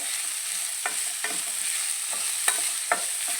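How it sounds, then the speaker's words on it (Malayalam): Onion and green chillies sauté in a pan, a steady hiss of frying running throughout, broken by about half a dozen scraping stir strokes spaced at irregular intervals; no one speaks. "അതിലേക്ക് ഉള്ളി പച്ചമുളകും കൂടി കൊടുക്കും രണ്ടും കൂടി ഒരുമിച്ച് കിടന്ന് വാടിയാട്ട്"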